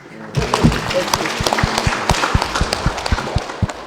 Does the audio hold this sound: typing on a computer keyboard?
no